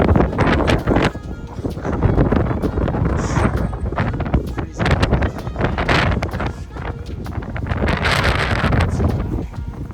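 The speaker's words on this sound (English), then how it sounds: "On the way to my sleeping place, sometimes there's like wind." Strong wind buffets the microphone outdoors at night in the Alps, roaring in uneven gusts that rise and fall over a constant low rumble, loud and close throughout.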